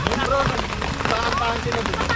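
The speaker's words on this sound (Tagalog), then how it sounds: "umuulan pa" Rain falls over a campsite, a constant close hiss of drops that runs the whole way while people talk over it.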